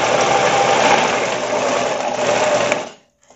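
An Elgin Genius sewing machine stitches at medium speed with a loud, steady mechanical whir for about three seconds, then winds down and stops. No voices are heard.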